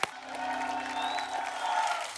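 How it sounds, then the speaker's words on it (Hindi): Studio audience on a TV comedy show applauds and cheers a brief, steady wave of clapping with some whoops, fairly loud and continuous for a couple of seconds. "आप सबकी जोरदार तालियों के बीच बुलाना चाहूंगा"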